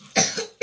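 A child with a cold coughs close by, two harsh bursts separated by a brief pause, with no talking.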